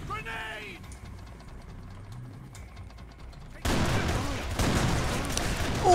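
A grenade goes off in the Kane and Lynch: Dead Men video game: a sudden loud, broad roar erupts midway and sustains, following a quieter stretch of scattered combat noise and brief voice-like sounds.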